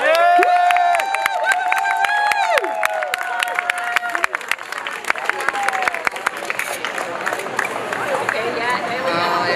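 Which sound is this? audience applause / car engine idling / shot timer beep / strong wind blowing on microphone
audience applause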